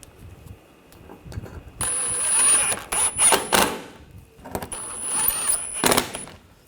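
A power tool tightening screws while a radiator is replaced on a 2013-2022 Buick Encore 1.4L, with two loud whirring bursts separated by quieter handling clatter and brief knocks.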